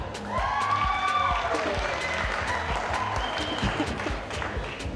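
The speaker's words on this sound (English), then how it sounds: "give a lovely round of applause to her" A cooking competition audience applauding, dense clapping that swells and continues throughout, with some voices and cheers mixed in.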